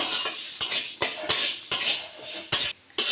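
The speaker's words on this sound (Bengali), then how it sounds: "ডালটা একটু ভেজে নেব" Lentils being dry-fried in hot mustard oil in a wok, a close, steady sizzle broken by repeated sharp scrapes and clinks of a spatula stirring against the metal, with a brief pause near the end.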